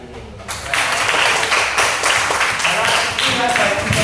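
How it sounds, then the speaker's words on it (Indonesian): Schoolchildren at an elementary school applaud the day's duty team, a burst of dense, steady clapping from a roomful of kids that runs unbroken for several seconds, loud and close. "Tepuk tangan untuk tim piket hari ini"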